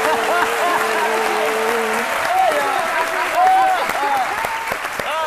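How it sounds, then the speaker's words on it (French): Sustained audience applause fills the room, steady dense clapping from a crowd with some voices mixed in, loud and continuous throughout. "Quand je vois Caroline applaudir comme ça"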